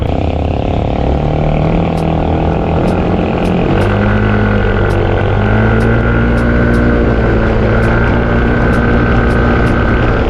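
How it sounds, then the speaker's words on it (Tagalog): A Yamaha NMAX scooter fitted with a new CVT set climbs a steep uphill road, its engine a loud, continuous droning whine whose pitch shifts and rises as it pulls up the slope. "So try natin yung ating bagong CVT dito kaya bang umakyat na ito"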